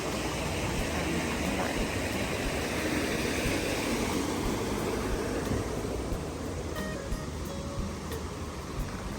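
A steady, even rush of stream water flowing beside a walking path on a cool, rainy day, heard close and unbroken throughout, with no talking.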